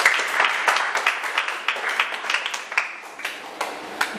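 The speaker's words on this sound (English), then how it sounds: "Can you clap your hands unto the Lord?" A church congregation at a Sunday service claps along in a loose rhythm, the sharp claps landing as distinct repeated beats at a fairly steady pace, fairly loud and close.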